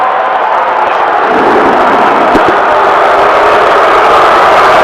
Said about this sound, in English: The crowd's not happy.